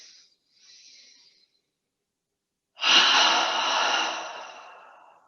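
A deep exhale during seated yoga practice comes after a couple of faint soft breaths, then swells into a long, close, airy breath that slowly fades.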